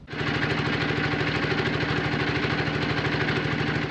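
A trawler boat's engine runs in the Sundarbans, a steady, fast, evenly pulsing thump that stays at a constant loud level throughout, with no voices.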